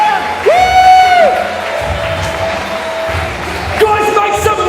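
A seminar crowd cheers and whoops loudly, with shouts and scattered clapping, as high whistles and rising voices cut through the noise in short bursts.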